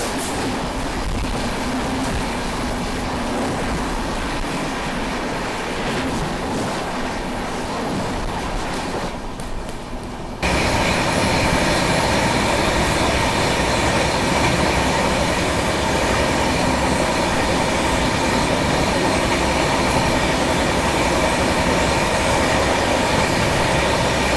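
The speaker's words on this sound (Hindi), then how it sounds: "सामने से आ रही है धनबाद की तरफ से एलिपी जाने वाली धनबाद एलिपी एक्सप्रेस" Dhanbad–Alleppey Express running on the rails near Palakkad in the Western Ghats, a loud continuous rumble and rattle of wheels and wagons that cuts out briefly and then returns even stronger and sustained.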